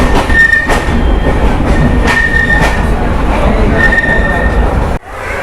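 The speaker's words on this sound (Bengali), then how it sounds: "বিমানবন্দর রেলওয়ে স্টেশন থেকে দুজন এক্সপ্রেস ছেড়ে দিল" An express train at an airport railway station, heard close and loud with a continuous rumble, clattering wheels and a few squeals and whines, before the noise drops suddenly near the end.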